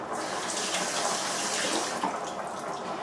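Tap water runs steadily into a kitchen sink for rinsing during cooking, a continuous close hiss and splash at even loudness with no pauses.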